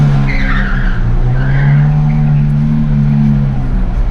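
A drift car spins round in tight circles, its engine roaring at a steady, high pitch while the tyres skid and squeal without a break, close and loud the whole time.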